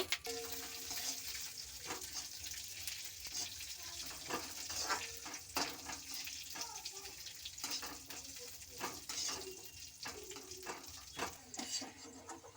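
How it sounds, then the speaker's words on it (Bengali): Cashews and raisins fry gently in ghee in a kadai, making a soft, faint sizzle with repeated light stirring and clinking, and some quiet background noise. "কাজু কিশমিশগুলো দিয়ে দিলাম এবার হালকা করে ভেজে নেব"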